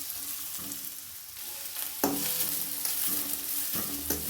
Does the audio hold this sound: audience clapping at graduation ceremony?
no